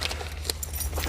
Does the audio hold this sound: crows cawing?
no